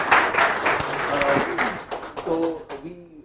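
A small audience at a running injury prevention talk breaks into scattered applause, mixed with voices and laughter, with clapping thinning out as people keep talking.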